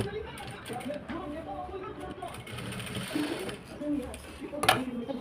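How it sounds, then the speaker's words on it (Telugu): Sewing machine stitching a blouse hook strip, a close, continuous mechanical whirr and rattle of the needle running under a person's talking. "ఇప్పుడు నెక్స్ట్ ఇంకొక కుట్టేసుకున్నాం."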